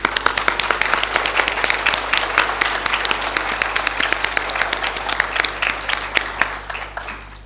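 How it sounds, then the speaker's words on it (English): Loud, sustained applause from a university lecture audience for a visiting professor at Naresuan University, many hands clapping in a dense, continuous patter that holds steady for several seconds. "let's give him another big round of applause"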